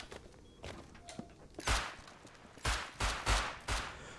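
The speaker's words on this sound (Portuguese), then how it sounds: "Tem tiro lá atrás, hein, tiro lá atrás." Gunfire in the survival game Rust during a raid on a neighbouring base: a few loud single shots, then four sharp evenly spaced blasts close by.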